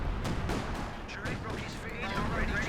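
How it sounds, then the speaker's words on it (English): Artillery fire in the World War II strategy game Company of Heroes 2, a dense run of booming blasts and rumbling impacts under continuous commentary. "Another artillery cover is ready to go."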